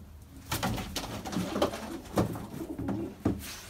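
Domestic pigeons coo softly at close range, repeated low burbling calls rising and falling over a faint background hum.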